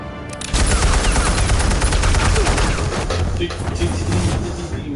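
Rapid gunfire in Batman: The Telltale Series, a loud, dense burst of automatic shots and heavy booms that starts abruptly after a brief lead-in and keeps hammering for several seconds, with voices mixed underneath.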